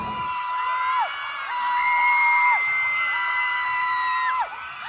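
A crowd at a TikTok Shop runway event shrieks in high-pitched, sustained screams that swell and fall in waves, loud and continuous.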